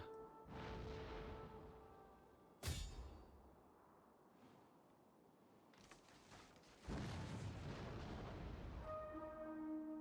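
Artillery fire on a Total War: Attila battlefield, distant booming volleys with a sharp loud crack near the start and rumbling impacts, layered over a low steady din.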